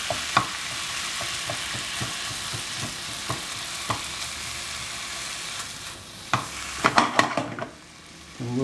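Ground meat for a shepherd's pie, some of it still partly frozen, browns in a frying pan under a steady sizzle, broken by regular clacks of a spatula and a flurry of louder scraping near the end.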